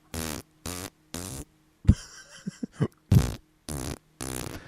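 Farting Felucian mushrooms from the video game Star Wars Battlefront 2 squeak out a run of short, comic rhythmic blasts, interleaved with longer buzzing bursts, clear and close with no talk.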